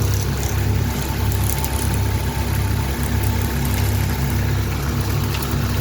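A coil winding machine running steadily as it winds a ceiling fan coil, giving a continuous low mechanical hum and whir with faint rattles and no talk.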